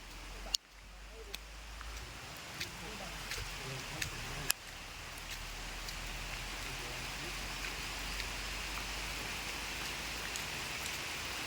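Rain falling steadily outdoors, a continuous close patter of drops on surfaces with a few sharp knocks early on, and low voices faintly present beneath it.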